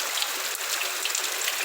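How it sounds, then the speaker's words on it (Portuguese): Heavy rain pours steadily on a rural smallholding in Rio Grande do Norte, Brazil, a dense, constant hiss of drops with no pause, heard close and alone. "Muita chuva, graças a Deus."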